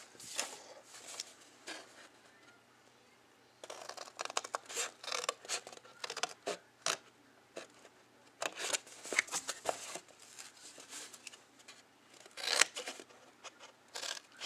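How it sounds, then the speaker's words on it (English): Scissors cut through chipboard at an angle while making a box, giving close, crisp snips and scraping crunches in irregular bursts, with quieter paper handling in between and no talking. "the reason you want to cut this at an angle is so that you don't have some extra bulk"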